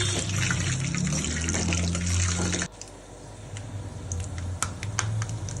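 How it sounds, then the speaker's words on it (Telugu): Peanuts frying in oil in a pan for tamarind pulihora, a loud hiss and sizzle that cuts off sharply partway, followed by quieter crackling with scattered sharp pops and clicks. "సో పల్లీలు యాడ్ చేసేసుకొని మంచిగా ఫ్రై అయ్యి వేగే వరకు దాన్ని తిప్పుకోండి."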